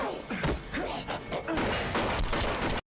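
Gunfire in a scene from the TV show Grimm: a dense burst of sharp shots and heavy thuds with crashing impacts, loud and rapid over roughly three seconds, with faint voices mixed in.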